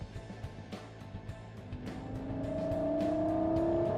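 A Lexus LFA sports car engine idles with a low burble, then revs and climbs into a rising, high-pitched wail that grows louder and sustains to the end.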